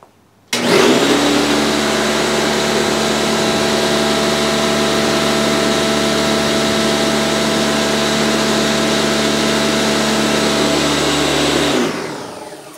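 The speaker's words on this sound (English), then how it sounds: "Here's the air compressor." An air compressor powered by a portable 2000-watt power station switches on abruptly and runs loud and steady for about eleven seconds, a constant motor drone that tapers off as it stops.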